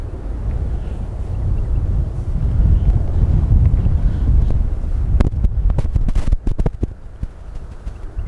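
Gusty wind buffets the microphone over a wet golf course, a loud, rough rumble that swells and eases throughout, with a few sharp knocks and crackles near the end.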